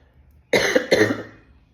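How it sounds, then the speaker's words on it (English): Two quick, harsh coughs in close succession, near and fairly loud, trailing off into quiet. "I got a cough."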